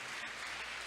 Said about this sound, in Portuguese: Levanta sua mão para o alto e aplauda aquele que perdoa pecados.